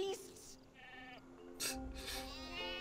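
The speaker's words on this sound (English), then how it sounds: "Honestly, Hugo, they're just sheep." Sheep in the Spyro video game bleat in a few quick, wavering cries close by, with a game voice speaking between them.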